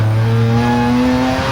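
RUF CTR Yellowbird turbocharged sports car accelerating uphill on a race track in third gear, its engine note a loud, steady, slowly rising drone close by, with no talk.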